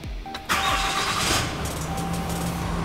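A truck engine cranks briefly and catches at about half a second, then settles into a steady, close, loud idle running alone with no talk.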